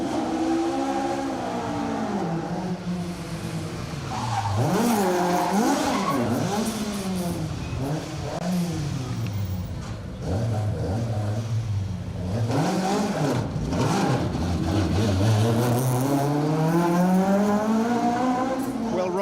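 Ford Escort Mark II rear-wheel-drive rally car spinning a tight donut on an asphalt rally stage, its engine revving hard in rising and falling sweeps as the tyres squeal and skid, close and loud with some talk underneath.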